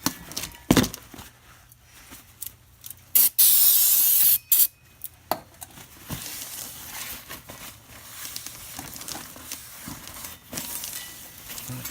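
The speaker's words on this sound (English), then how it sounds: "we're gonna have to get that oily bath off. So, brake clean." Brake cleaner sprays from an aerosol can onto the rear brakes of a Chevy Tahoe in two bursts, one long and loud and one short, alongside soft handling clatter at close range and no talk.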